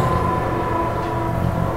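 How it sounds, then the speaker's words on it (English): Hum and whir of a door opening in the video game Half-Life 2 Episode One: a steady, continuous machine drone with a faint high tonal whine that stays level for about two seconds with no voices. "that door opening sound was just like the elevator running in Portal 1"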